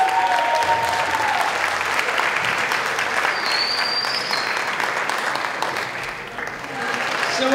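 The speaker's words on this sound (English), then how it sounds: "would everyone please put a big round of applause to our 2013" A grade 8 promotion audience applauds in loud, continuous clapping that dips briefly and swells again near the end, with a few whistles and cheers over the top.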